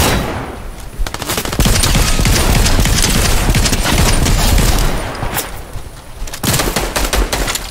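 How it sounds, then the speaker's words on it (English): Rapid automatic gunfire in a first-person shooter video game: loud, close bursts rattle almost nonstop, break off for a short pause, then resume in another burst. "Someone's shooting at us."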